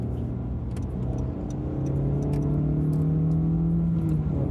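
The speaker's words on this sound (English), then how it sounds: "do you hear the motor on my freaking car?" A small, weak car engine of about 99 horsepower runs close by with a steady low droning hum whose pitch creeps slightly upward, continuous throughout.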